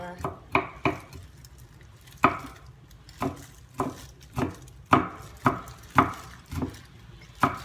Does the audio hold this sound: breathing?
no